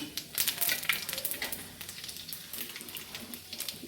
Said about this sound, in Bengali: পাঁচফোড়নটা কড়াইয়ে দিয়ে দিলাম